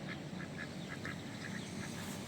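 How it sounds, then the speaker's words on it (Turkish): Several ducks at a fishing spot in Adana, Turkey quack in short nasal bursts, scattered irregularly over a steady outdoor background hum, moderately distant and not very loud. "Ördekleri besleyebilirsiniz isterseniz."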